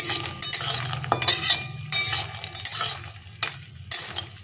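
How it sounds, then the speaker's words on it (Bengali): Bori lentil dumplings frying in a pan, with a soft sizzle under repeated clinks and scrapes of a metal spatula against the pan, close up and with no talking. "রান্নার জন্য বড়িগুলো একটু ভেজে নিচ্ছি।"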